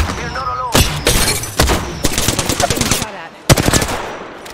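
Automatic weapons in Apex Legends fire several loud, close bursts of rapid staccato shots separated by brief pauses, with voices and other game noises faintly underneath.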